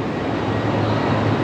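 Steady low rumble of a high-speed train running, as heard from inside a carriage in Serbia, with continuous broadband noise and no talk.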